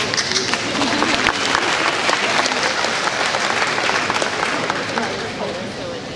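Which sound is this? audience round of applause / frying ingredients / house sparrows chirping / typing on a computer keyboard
audience round of applause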